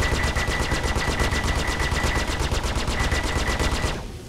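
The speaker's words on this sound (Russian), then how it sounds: "Что-то я по ним стреляю." Rapid automatic weapon fire from the space game Star Citizen, a loud unbroken stream of evenly spaced shots lasting about four seconds before stopping abruptly, with no speech.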